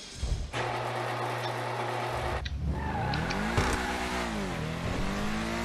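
A car accelerates from a standstill in GTA Online, the engine rising from idle to a climbing rev with gear shifts and a brief tire squeal, close and steady with no talking.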